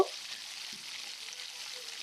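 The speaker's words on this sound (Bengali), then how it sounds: "পেঁয়াজ কুচিগুলো এখন আমি ভালো করে একটু ভেজে নেব" Chopped onions fry quietly in oil in a pan, a soft continuous sizzle with a brief stir near the start and no talking.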